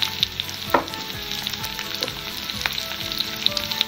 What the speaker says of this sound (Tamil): வெட்டி வைத்த வெங்காயம் போட்டு வதக்கி